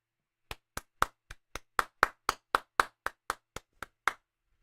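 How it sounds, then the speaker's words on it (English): About fourteen sharp hand claps ring out at an even, moderate pace, each one distinct and separated by silence, as if from a single clapper close by. "Give a round of applause."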